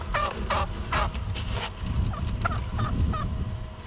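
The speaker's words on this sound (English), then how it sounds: "you'll basically hear a lot of yelping and cutting and clucking from the hens" Wild turkey hens yelp in short repeated bursts with clucks scattered between, over a low rumbling background outdoors.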